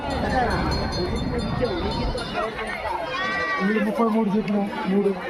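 Goats bleat several times in wavering cries at the weekly Gudur livestock market, over a background of people talking, with a clearer bleat near the end.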